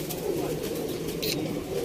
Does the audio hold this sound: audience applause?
no